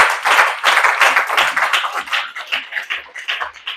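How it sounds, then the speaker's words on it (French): Church congregation clapping, a dense, lively round of applause close by that thins into a looser, uneven rhythm of claps toward the end. "Acclamons très fort le Seigneur."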